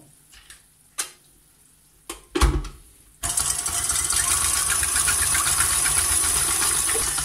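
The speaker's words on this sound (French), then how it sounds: "Donc là je mets tout de suite les œufs et je commence à fouetter gentiment." Eggs are whisked for a chocolate buttercream log, first as a few scattered taps and clinks, then as a steady, fast whirring rush that continues loudly and closely to the end.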